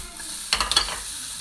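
Bacon and garlic tossed in a hot pan make a brief close burst of sizzling with a few quick scraping rustles lasting under half a second, then fading back to a quiet hiss.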